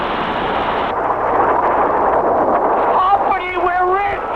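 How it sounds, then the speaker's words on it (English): A cartoon oil gusher erupts from an enormous crater in a loud, continuous whooshing roar, with bubbly warbling tones rising near the end; a voice talks over part of it. "right out of the enormous crater shot a huge gusher"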